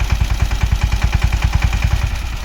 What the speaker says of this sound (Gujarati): આપણે ટ્રેક્ટર ચાલુ કરી દીધો છે